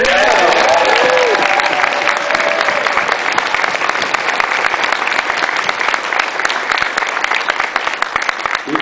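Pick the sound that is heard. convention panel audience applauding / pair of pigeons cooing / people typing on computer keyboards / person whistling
convention panel audience applauding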